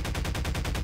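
Rapid automatic gunfire from a zombie shooter game rattles in a fast, even burst of about nine evenly spaced shots, loud and continuous with no talking.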